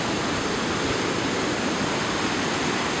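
Floodwater from torrential rains pours past a dam on a chain of lakes in Jefferson Township, New Jersey, as an unbroken hissing roar, strong and even throughout, with no one talking.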